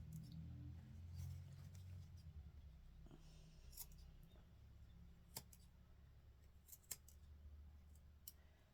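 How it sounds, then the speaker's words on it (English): Guggenheim scissors snip loose fabric on the inside of a doll dress, producing several quiet, sharp clicks scattered unevenly over a low background hum, close and faint, with no talk. "So I am going to now take my scissors and I'm going to tidy up the inside."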